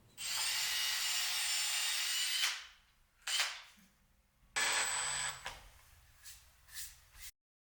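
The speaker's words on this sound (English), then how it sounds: "Make sure you pre-drill the holes to not have the wood crack on you." A power drill whirs in two long bursts with a short burst between, loud and close, pre-drilling holes in wood for a cutting board, with brief pauses and no talking.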